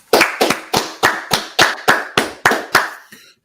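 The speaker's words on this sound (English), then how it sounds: "All right, let's clap it up." Nine or ten sharp, evenly spaced hand claps ring out in a steady rhythm, loud and close, in unison from a group at a street gathering, ending abruptly.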